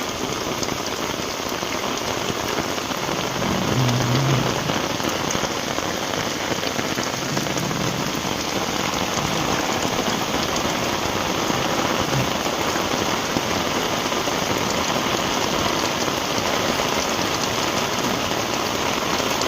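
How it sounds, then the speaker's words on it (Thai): Heavy rain pours steadily, a loud, continuous drumming hiss on surfaces with no breaks. "ฝนก็ตกหนัก"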